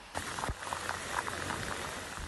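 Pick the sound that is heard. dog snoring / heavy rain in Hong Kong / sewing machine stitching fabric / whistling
heavy rain in Hong Kong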